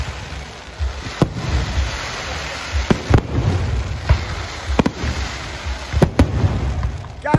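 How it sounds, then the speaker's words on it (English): A fireworks show at Summit Motorsports Park during a nighttime drag racing event, with sharp bangs and pops bursting at irregular intervals over a continuous crowd and crackle roar. "They decided to go ahead with the fireworks show."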